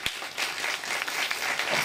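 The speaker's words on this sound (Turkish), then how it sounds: "Büyük bir alkış rica ediyorum" Audience at a children's literature festival in Kartal applauding, a sustained wash of many hands clapping at once, fairly close and even from start to finish.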